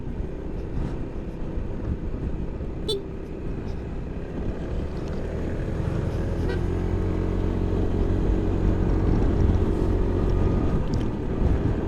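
A motorcycle engine drones steadily while riding along curving dam roads, a continuous low rumble heavily mixed with wind buffeting the microphone, with no talking.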